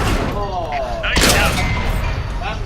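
Rapid tank cannon fire in the World of Tanks video game, a heavy boom with a harsh crack landing mid-clip amid engine rumble and whistling effects, while someone talks over it.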